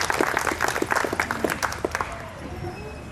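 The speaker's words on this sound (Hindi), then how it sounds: "जोरदार तालियों से अभिनंदन।" An audience at a Holi community gathering and award ceremony bursts into lively clapping that fades after about two seconds, leaving a low murmur of the hall.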